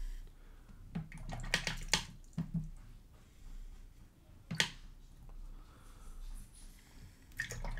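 Brief watery swishes and taps as a watercolor brush is rinsed in water and knocked against a container, in short irregular bursts with quiet gaps.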